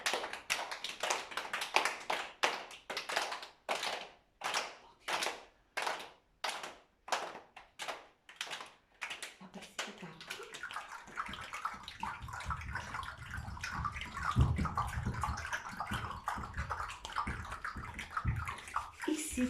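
Children in a kids' centre imitate small raindrops of a summer rain, first with a steady run of separate claps and taps, then a softer continuous patter that thins out as the rain stops.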